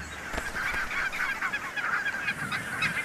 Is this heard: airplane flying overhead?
no